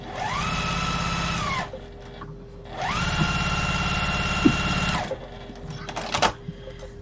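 A sewing machine stitches quilt fabric pieces for Moda blocks with a quarter-inch seam, running in two steady whirring bursts separated by a short pause, then handling clicks as the stitching stops.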